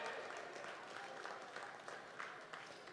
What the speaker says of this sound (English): clap in this room if you have Canadian parents